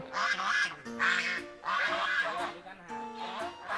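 Several loud nasal honks from geese in quick, overlapping bursts, close by, with a voice mixed in.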